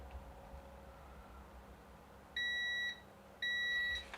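A HABOTEST HT5009 voltage tester pen sounds its alarm buzzer in two separate, steady electronic beeps, each roughly half a second long. They are close and clear over faint background hiss.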